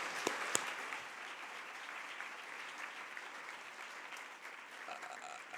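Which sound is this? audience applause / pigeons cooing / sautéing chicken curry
audience applause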